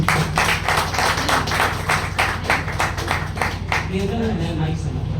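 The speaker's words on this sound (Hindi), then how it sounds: "सर के लिए एक बार जोरदार ताली।" Audience at an open mic poetry and music night clapping in a steady burst of applause, fairly close and lively, fading slightly as a voice starts speaking over it toward the end.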